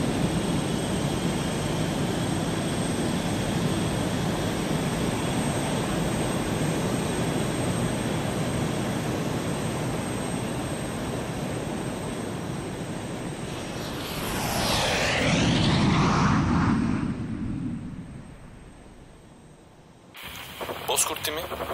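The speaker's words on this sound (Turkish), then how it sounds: "Nakliye uçağı ile mühimmat desteği için yola çıktık." Military transport aircraft in a Turkish war film, a steady loud engine drone that swells into a rushing pass overhead, then fades before a sharp cut to other noise.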